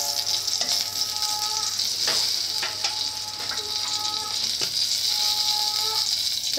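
A bay leaf and two dried red chillies frying in hot oil, giving a steady close hissing sizzle with occasional light scrapes and taps of a spoon in the pan.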